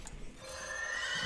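A horse in the Hearthstone card game gives a short, bright whinny, heard alone and fairly close for just over a second.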